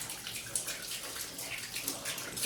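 Tap water running into a bowl at home, with a soft, steady trickle and splash that stays fairly faint and even throughout.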